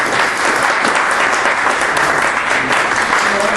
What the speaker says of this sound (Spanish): Entonces yo pienso que al levantar la sesión lo aplaudamos